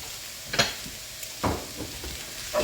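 Spiced potato filling with chopped coriander being stirred in a pan on a stove over medium heat, a few soft scraping stir strokes over a faint sizzle, fairly quiet and without talk.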